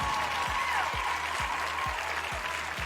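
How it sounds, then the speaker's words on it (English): Applause sounds continuously under a faint talking voice, with a regular low thumping beat repeating roughly every half second. "I'm just gonna let the applause play for a bit."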